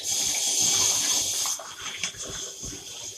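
Water runs steadily from a tap with a bright hiss, then the flow shifts and softens midway, with faint clatter underneath.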